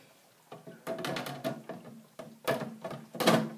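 Quiet plastic clicks and snaps come in a short series as the filter door panel of an Alkalux water ionizer is fitted by its tabs and pushed closed, with no talking.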